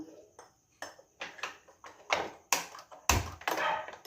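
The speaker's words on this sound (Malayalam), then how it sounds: "ഗ്യാസ് ഓണാക്കി കൊടുക്കാം" Clicking of a gas stove igniter as the burner is switched on in a home kitchen, a series of sharp close taps and pings with metallic ringing, some louder bursts toward the end.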